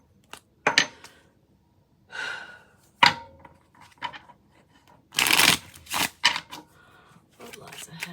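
An Arcana playing card deck is shuffled during a card reading, giving several brisk riffling bursts and soft card slaps at close range, with short pauses between them and a faint breathy sigh.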